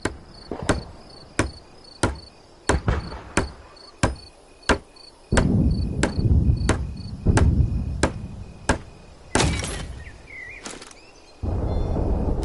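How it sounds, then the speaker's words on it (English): A hammer repeatedly strikes while building a barricade in Hell Let Loose: Vietnam, with about a dozen sharp, evenly spaced knocks over a steady insect-like background hum and a louder rumbling bed midway. "Use the hammer in your loadout to finish constructing it."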